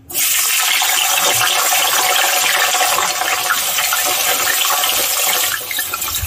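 Thin-sliced eggplant, pre-soaked in water, dropped into hot oil for a Tamil tamarind curry, giving a loud, steady hiss and sizzle that starts abruptly and holds throughout before easing slightly at the end.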